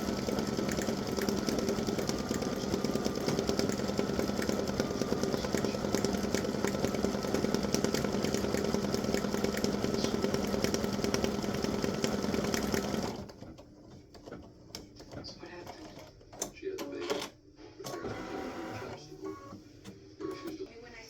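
An embroidery machine stitches out a fall wreath alphabet design with a loud, steady, rapid mechanical chatter for about thirteen seconds, then stops, leaving quieter handling noises and brief clatter.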